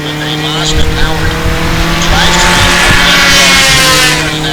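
Formula 500 single-seater race cars with Mazda-powered drivetrains lapping a circuit, their engines droning steadily and loudly throughout, with commentators talking over the continuous racing noise.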